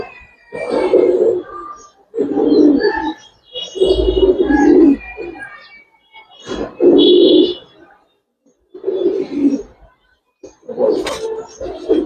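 Domestic coloring pigeons coo in repeated bursts, a steady series of low throaty calls with short pauses between them, close by, with a few higher chirps from other birds mixed in.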